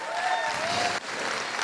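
An indoor audience applauds a guest at a gathering with a continuous, full burst of clapping that stays even throughout, with a brief dip near the middle.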